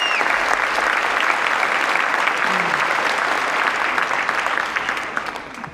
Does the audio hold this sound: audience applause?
yes